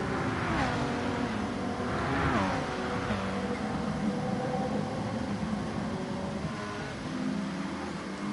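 Four racing cars running nose to tail in a slipstream train in a touring car racing game at Interlagos, engines droning steadily with rising revs, the blended roar continuous and fairly loud throughout.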